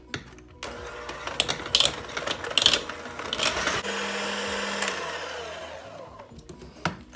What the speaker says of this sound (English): we are going to cream the butter to get it nice and creamy